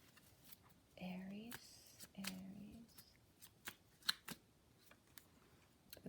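Kipper deck cards riffle and shuffle in two short bursts, followed by scattered soft taps and clicks of cards being handled, close and quiet in a calm room.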